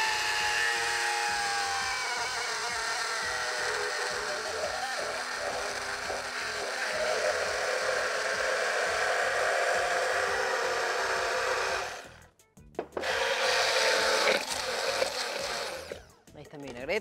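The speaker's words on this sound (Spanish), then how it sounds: "Empiezo a mixear y empiezo a agregar el aceite en forma de hilo." A mixer whirs steadily while blending a classic lemon vinaigrette with salt and pepper as oil is drizzled in, a loud, continuous motor drone that cuts out briefly near the end and then starts again.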